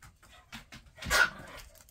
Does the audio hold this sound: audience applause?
no